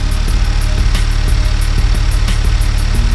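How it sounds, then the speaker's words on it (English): Honda Civic Type R engine fitted with a PRL high-volume intake, heard as a loud, steady mid-pitched idle with a faint rhythmic knock and no clear revving rise. "But alright Jay, rev it up."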